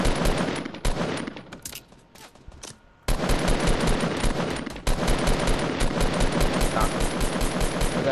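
Rapid automatic gunfire rattles in Fortnite Battle Royale, with dense, loud bursts of shots, a brief quieter gap with scattered shots, then sustained firing again.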